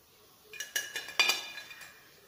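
Crisp, freshly fried ribbon pakoda is handled and shaken, giving a few light, brittle rattles and clinks in quick succession, close up and otherwise quiet.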